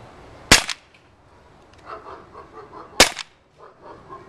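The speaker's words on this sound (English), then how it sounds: "So we're just going to take a first shot here." Two sharp, loud pops from a Walther P38 blowback BB pistol fired close by, roughly two and a half seconds apart, with a soft mechanical rattle and faint shuffling in between.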